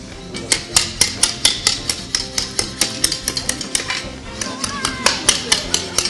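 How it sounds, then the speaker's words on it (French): A roofer trims natural schist slate with a hammer against an anvil in a training workshop, giving a steady run of sharp, ringing metallic taps, close and loud, about three or four per second. "Le marteau, l'enclume pour tailler l'ardoise, ça c'est toujours fait comme ça."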